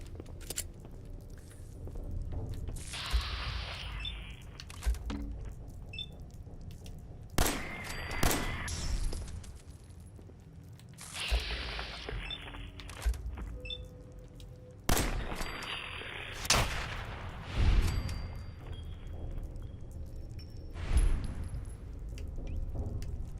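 Gunfire in the video game Fallout 4 comes in sharp, loud bursts spaced several seconds apart, each crack trailing into ringing debris and echo against a low ambient hum.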